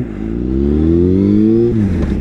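Motorcycle engine revving loudly and close, its pitch climbing steadily for over a second before dropping back, with no talk over it.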